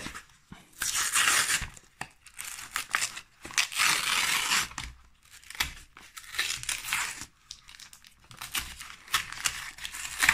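A Pokémon card booster tripack being torn open, repeated bursts of crinkly plastic tearing and crumpling separated by short pauses, close and fairly loud with no talking.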